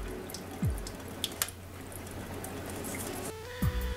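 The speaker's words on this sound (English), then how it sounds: "Rinse each one out several times" Tap water runs and splashes while sample containers are rinsed out, a steady close wash of water with occasional drips and clunks of the containers being handled.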